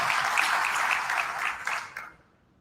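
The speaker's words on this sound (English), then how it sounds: "Let's give them a round of applause first" An audience at Potential Church breaks into a lively round of applause, the clapping dense and bright at first, then thinning out and dying away to near silence in the last half second.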